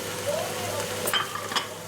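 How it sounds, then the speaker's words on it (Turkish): Vegetables and chopped tomatoes sizzling and being stirred in a hot pot, a steady frying hiss with soft scraping movements, close by and without talk. "Tekrar karıştırıyorum."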